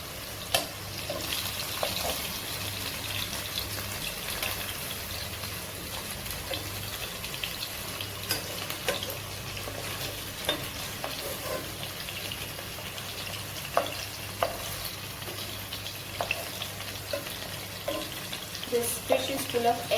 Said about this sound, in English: More fish can be accommodated, so I am adding the rest fish